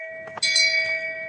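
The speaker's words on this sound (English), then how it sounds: "It's an actual shame bell." A single bright strike of a novelty shame bell, with a few soft knocks just before it and a clear metallic ring that sustains and slowly fades.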